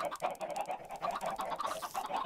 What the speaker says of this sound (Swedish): Massa kycklingar som låter,